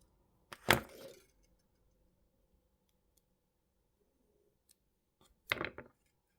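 Cutters snipping jewellery wire while making a pendant frame: two sharp snaps several seconds apart, each with a brief rattling tail, close and clear over near silence.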